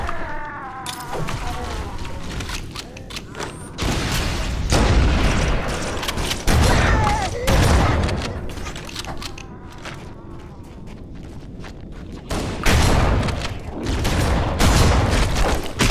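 Shotgun fire in the video game Halo: Combat Evolved comes as repeated loud, booming blasts scattered through a busy stretch of game sound, with mechanical creaks and clatter between the shots.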